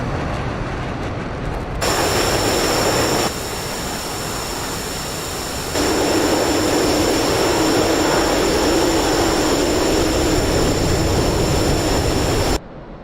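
Loud, continuous roar of a MiG-29 Fulcrum jet engine in a flight video game, with a steady whine on top and the thrust stepping up and down in blocks before cutting off abruptly at the end.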